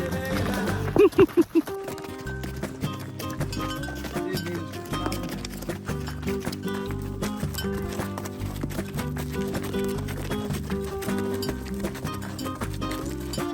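Donkey hooves clip-clop along a rocky trail near the Mexican border town of Boquillas del Carmen, a burst of close, sharp steps early on that soon fades into steady background noise.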